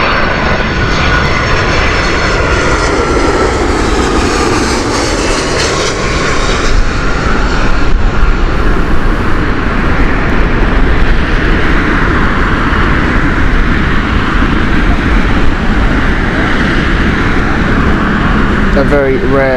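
A Boeing 757 jet at Heathrow Airport, a loud continuous engine roar with a sweeping rise and fall as it passes, steady and close throughout.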